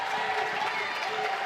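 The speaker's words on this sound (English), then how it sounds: "ovation from the crowd." A basketball crowd gives steady applause at halftime of a college game between Dayspring Bible College and Kuyper College JV, a brief continuous wash of clapping with a few faint voices.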